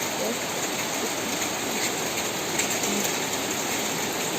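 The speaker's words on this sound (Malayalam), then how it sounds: "ഇതാണ് മഴ" Heavy rain falls steadily over a home, a dense, unbroken hiss that stays loud and even throughout with no voices.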